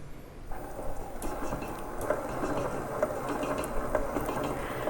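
A stand mixer mixes chiffon cupcake batter, making a steady whirring hum with a faint regular ticking and a soft wet churn, continuous and moderately quiet throughout.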